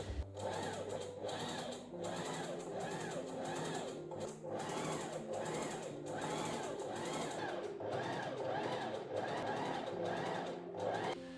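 A sewing machine runs continuously, stitching the center back panels of a button-front dress together with a rapid, even mechanical chatter close by, no talking.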